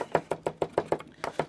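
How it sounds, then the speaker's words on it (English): Fresh mint being chopped with a knife on a board, about ten crisp, evenly spaced blade strikes in quick rhythm, close and distinct with no talking. "So chop up your mint like that."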